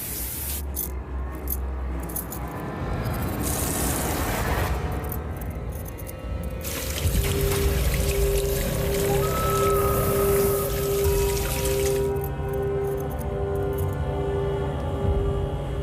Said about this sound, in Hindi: कीचड़ वाला पानी कहाँ से आया?